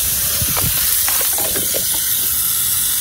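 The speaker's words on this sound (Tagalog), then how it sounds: "Wait lang yung dinidiligan ko." Water spraying onto potted plants during watering, a steady broadband hiss held for several seconds with a few faint handling noises early on and no talking.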